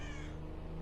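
Crows caw in the background of the racing video game Hot Wheels: World Race, a harsh bird call heard over a steady engine hum, with no talking.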